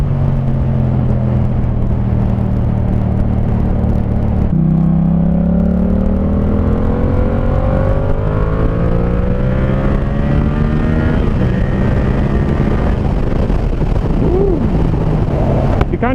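Yamaha MT-07 motorcycle fitted with an SC Project Conic exhaust, revving and climbing high through the rev range under steady wind rumble; the engine note rises and falls in several sweeping pulls, moderately distant.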